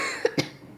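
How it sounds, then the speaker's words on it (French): Two short, sharp coughs in quick succession from a woman with a returning cough, close to the mic, in a quiet room. "Désolée si je tousse parce que ça m'a repris"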